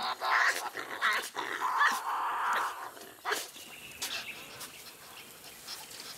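Tasmanian devils fighting in the wild, giving harsh growling screeches and snarls in loud bursts over the first three seconds, then fading to softer, scattered sounds.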